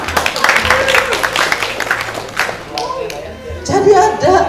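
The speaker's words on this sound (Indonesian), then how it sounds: "Tepuk tangan saya serius." An audience clapping in short, close, uneven bursts for a few seconds, fading out as a voice takes over and talks on.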